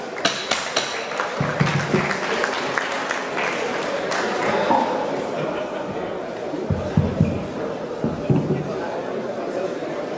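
Applause from a crowd at a women's amateur boxing bout in Germany, steady clapping filling the hall with murmured chatter and a few louder bursts throughout.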